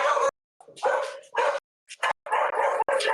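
A dog barks repeatedly in short, close, irregular bursts, with brief yips between them.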